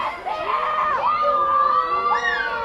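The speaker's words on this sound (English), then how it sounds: "Crowd is going wild for Gail." A crowd at a Medfield versus Bellingham high school field hockey game bursts into cheering. Excited shouts and high whoops from young voices overlap, loud and lively for the whole brief moment.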